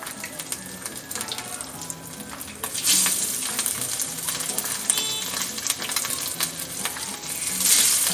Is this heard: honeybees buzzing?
no